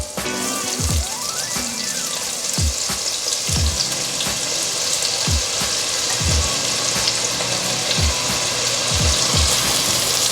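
Onions sauté in a hot pan with a loud, continuous sizzle, broken every second or so by the scrape and knock of a spoon stirring them, heard close with no talking.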